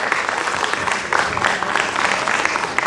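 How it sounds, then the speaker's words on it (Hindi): Loud, dense applause from an audience at an open mic poetry event, a steady wash of clapping filling the whole stretch without pause. "मैं चाहती हूँ कि आप सभी तनिष्क के लिए जोरदार ताली बजा दें।"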